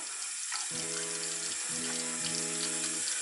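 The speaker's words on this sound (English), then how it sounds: "I'm gonna kind of rinse it off just a little bit." Tap water running steadily into a sink while a makeup brush and silicone cleaning mat are rinsed, a close continuous splashing hiss with the flow changing pitch as things pass under it.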